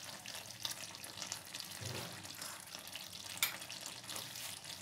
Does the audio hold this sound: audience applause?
no